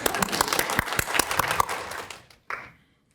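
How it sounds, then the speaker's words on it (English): Lecture audience at the University of Michigan School of Public Health breaking into applause, sharp individual claps for about two seconds that fade out, followed by a brief faint noise before quiet. "You get an extra round of applause."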